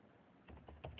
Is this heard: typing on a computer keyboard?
yes